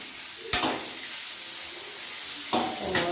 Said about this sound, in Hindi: मैंने किचन में आलू फ्राई बना रही हूँ